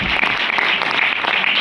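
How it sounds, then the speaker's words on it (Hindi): An audience claps steadily and enthusiastically at a Hindi poetry recital (kavi sammelan) in a hall, a dense, continuous wash of many hands with no voices standing out. "एक बार जोरदार तालियां बजेंगी।"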